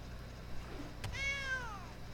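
A cat meows once in the MTG Arena digital card game as a cat card is played. A short click comes first, then a clear, close, rising-then-falling meow on its own.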